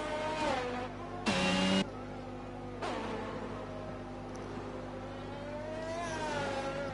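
Racing car engine on a flying lap in a sim racing game at the Japan circuit, a steady near whine with gear-shift jumps in pitch, then a long rising and falling drone, no talking.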